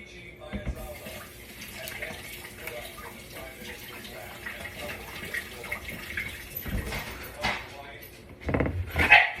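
Vegetables are washed under a running kitchen tap, a soft continuous flow of water with splashing that picks up near the end, while a voice speaks faintly in the background.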